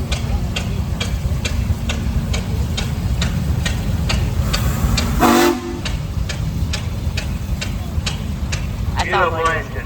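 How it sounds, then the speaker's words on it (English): An A.D. Baker steam traction engine rolls past in a vintage engine parade, its regular chuffing beats steady and loud, with a horn or whistle sounding midway and another brief tone near the end. "We have a few more steam engines coming down here."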